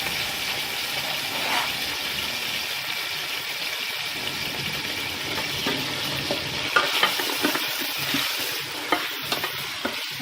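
Meat frying hard in a pot with onion and garlic, a loud continuous sizzle with occasional stirring clatter toward the end.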